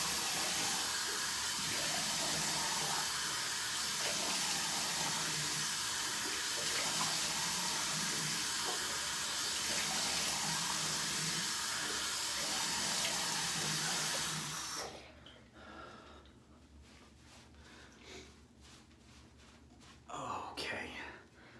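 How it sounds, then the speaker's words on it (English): Cold water runs from a bathroom tap in a steady, close hiss for several seconds while a face is rinsed after shaving, then cuts off, leaving quiet handling sounds and a brief splash near the end. "Cold water for that."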